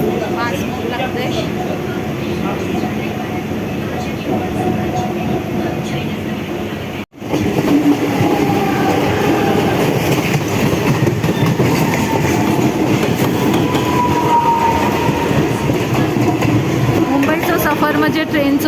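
Mumbai local train in motion, a steady loud rumble with rhythmic clickety-clack of the wheels on the rails filling the carriage. The noise carries on throughout, briefly cut once, with voices heard faintly under the din.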